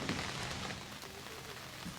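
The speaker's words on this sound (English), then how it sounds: "And on cue, it started to rain." Steady rain falls at a tent campsite on Long Island, New York, during an all-night storm, a dense even hiss of drops on surfaces with no voices.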